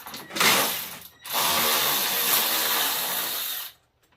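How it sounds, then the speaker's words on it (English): A 3/8 ratchet working a bolt loose on an MTD mower during autodrive belt replacement, heard as close, continuous rapid clicking in two bursts, a short one then a longer run of about two and a half seconds, with no talking. "So we'll just see if this 3/8 ratchet will take that out."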